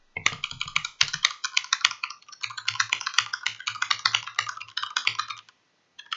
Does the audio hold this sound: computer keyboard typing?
yes